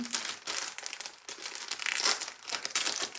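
Crinkly plastic packet from a TEMU parcel rustles and crackles continuously as it is handled and opened up close, in uneven bursts.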